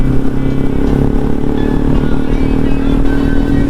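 A Kawasaki Z900 superbike on its stock exhaust, a loud, close, steady engine drone with a constant rumbling tone throughout and no speech over it.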